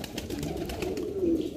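A single male Saharanpuri pigeon coos close by in a low, throaty murmur over light background noise.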